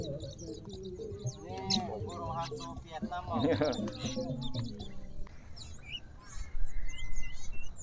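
Songbirds chirp and whistle in a bird seller's shop, bright calls scattered through the clip over a steady market din, with people talking nearby for the first several seconds.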